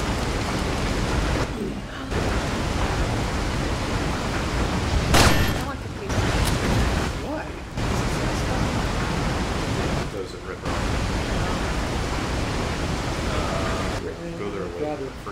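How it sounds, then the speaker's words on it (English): A waterfall and strong river current in the Resident Evil 4 video game make a steady, loud rushing roar, broken by a few short gaps, with people talking over it. "it is right next to a waterfall"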